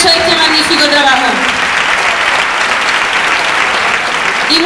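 Audience applause at a copla concert, a dense steady roar of clapping from a large crowd holding at full strength for nearly five seconds, with a few faint whistles or voices early on.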